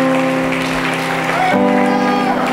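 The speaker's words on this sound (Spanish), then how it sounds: "¿Cuántos pueden aplaudir al Señor en esta noche?" Applause from a church congregation rises under sustained organ or keyboard chords, with clapping steady throughout and voices mixed in.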